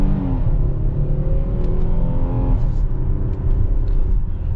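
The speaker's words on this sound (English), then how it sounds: "let's get our full-blown acceleration here with the calligraphy" A 2021 Hyundai Palisade Calligraphy SUV with a 3.8 liter V6 accelerates hard, its engine note climbing in pitch, dipping briefly at a gear change and rising again, loud and steady from inside the cabin.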